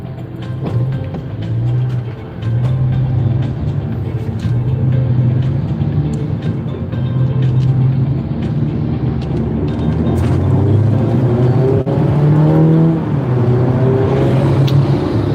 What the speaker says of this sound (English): All these cars on my right want to get ahead of this truck.